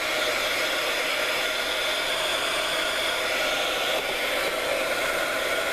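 A heat gun blows over a freshly glued mixed media art tag, a steady, loud, unbroken hiss of rushing air that holds at the same level throughout.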